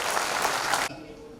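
Brisk audience applause fills most of the moment, then cuts off abruptly, leaving a quiet room tone behind.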